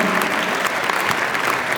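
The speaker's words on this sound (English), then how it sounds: "Huge round of applause to all of you." Applause from a crowd at a corporate holiday party in a New York venue, a dense steady wash of many hands clapping that fills the room at full volume without a break.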